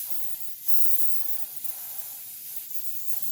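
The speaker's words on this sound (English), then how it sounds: "We're going to spray the side." A spray can hisses a steady mist onto the side of a gift-wrapped jewelry box. The spraying runs close and continuous, with no talking.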